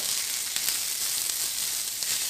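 Chopped onion fries in hot oil until reddish-brown for katachi aamti, a steady, even sizzle with faint crackles running throughout, close and moderately loud, with no voices.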